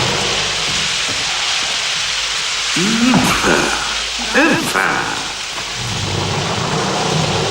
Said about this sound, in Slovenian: Spet je začelo deževati.